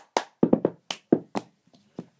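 Cup song rhythm of hand claps and cups tapped on a table, a quick sequence of about a dozen sharp percussive hits with short pauses, near and fairly loud, no talking.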